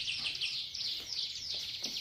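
A mountain prinia sings a rapid, high-pitched trilling song, continuous and fairly close, with faint background noise and no talking.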